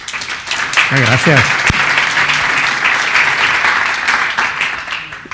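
Audience applause at a science-and-cinema talk on immunology, viruses and zombies, a steady broad wash of many hands clapping throughout, with someone briefly speaking over it near the start.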